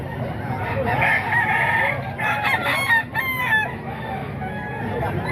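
A Gilmore Hatch gamefowl rooster, about three years old, crows at a gamefowl market in Grotto, the drawn-out call rising and falling over steady crowd murmur and nearby clucking.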